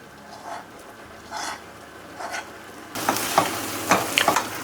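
Fried raisins and ghee go into a hot pan while preparing Ganapathi homam prasadam, giving a few soft stirring scrapes before a louder, steady sizzle takes over with spoon strokes over it.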